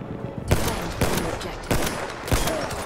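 Semi-automatic scoped medic rifle fires in Battlefield 1 multiplayer, four evenly spaced loud shots about half a second to a second apart over constant game background noise.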